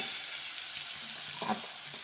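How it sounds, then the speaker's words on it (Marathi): Diced potatoes and tomatoes fry in a pan with a soft, steady sizzle, and a spoon stirs them now and then with a few light scrapes. "आता आपला हा बटाटा आणि टमाटे एकदम फ्राय झालेला आहे"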